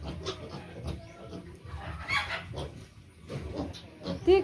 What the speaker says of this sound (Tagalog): Mga alagang manok. Naghintay na sa pagkaon.